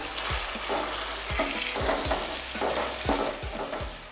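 Chicken frying and being stirred in a pot for haleem, a continuous close sizzle broken by regular spoon scrapes and knocks, with no one speaking.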